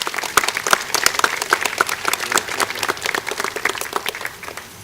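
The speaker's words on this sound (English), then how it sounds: "a round of applause for those folks" Crowd applause for guests at a state senator's legislation announcement, a brisk burst of many hands clapping indoors, close and lively, with sharp individual claps standing out and fading near the end.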